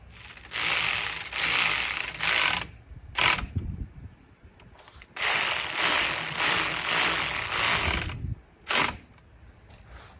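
A ratchet tightens bolts on a 250 SHO outboard motor in bursts of rapid clicking, several sustained runs separated by pauses and short strokes, close and moderately loud with no talk.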